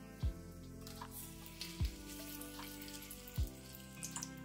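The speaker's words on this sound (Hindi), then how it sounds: "तेल के गर्म होने पर हम इसमें डालेंगे तेज पत्ता" Hot oil sizzles steadily in a pan after a bay leaf goes in, a close hiss with a few soft knocks and clinks spaced through it, and no talking, while paneer sabzi is being cooked.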